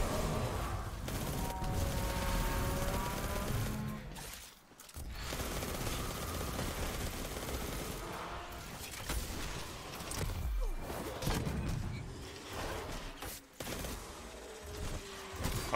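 Ace of Spades hand cannon firing in Destiny 2 combat, a dense stretch of repeated gunshots and impacts layered with game effects and music, steady and loud throughout with brief lulls.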